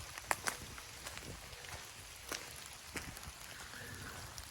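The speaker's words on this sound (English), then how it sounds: "I wish it wasn't raining." Rain falling steadily outdoors at an abandoned plantation home, a soft continuous patter with a few sharper drops and faint rustling close by, fairly quiet and with no talking.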